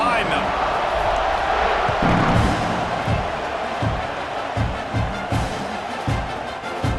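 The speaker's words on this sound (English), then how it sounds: "They're set to kick it off, and this crowd now ready to get behind them." A stadium crowd in College Football 26 gives a broad, steady roar before kickoff, with rhythmic thumps and claps under a commentator's voice.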